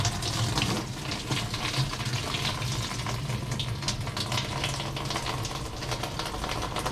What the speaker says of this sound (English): Let that drain out for a second.